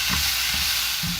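Salted fish, dried shrimp and Vietnamese shrimp paste fry in hot oil, giving a loud, steady, close sizzle that runs unbroken through the short moment.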